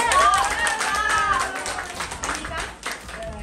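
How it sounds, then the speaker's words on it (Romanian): A small gathering at a birthday surprise in Cahul claps briefly and unevenly, with voices talking and calling out over the scattered applause. "Haideți să-l aplaudăm!"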